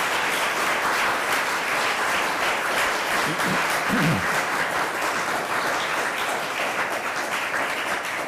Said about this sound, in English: please give a round of applause for our two distinguished guests